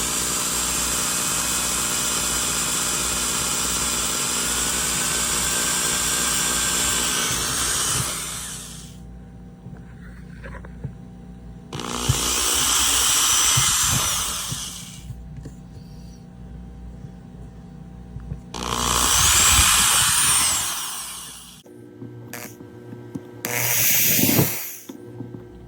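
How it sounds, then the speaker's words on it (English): A power drill bores holes through a bar, its high whining motor running in several separate bursts of a few seconds each, loud and close, with quiet pauses between them. "I'm ready to drill now"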